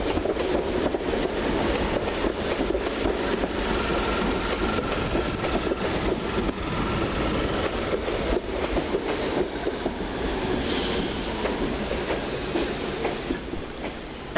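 Two Class 313 electric units, 313207 and 313219, trundle into a station on an empty stock move, a steady close rumble of wheels on rail with clickety-clack joints and faint squeal throughout.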